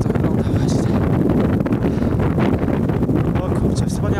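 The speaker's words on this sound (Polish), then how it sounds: "Jak słychać, to wiatr jest całkiem spory." Strong mountain wind in the Karkonosze in February buffets the microphone in a continuous loud roar, with a few faint rustles and brief sounds over it.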